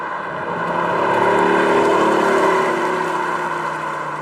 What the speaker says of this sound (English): God, I hate to admit it because I know it's fake, but I love it. It sounds like a nice V8.